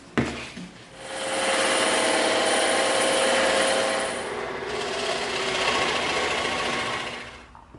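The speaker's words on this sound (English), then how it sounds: "We're going to take these over to the bandsaw and the scroll saw," A bandsaw or scroll saw cuts out EVA foam pieces, giving a loud, continuous buzzing whir for about six seconds with slight shifts in intensity as the blade works through the foam.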